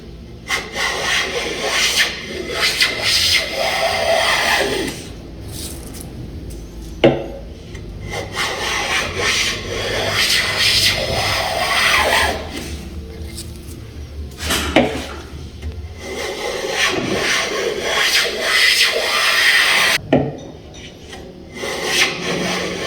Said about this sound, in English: the low angle is it's a lot easier to push. And I'm not getting any tear out with this whatsoever.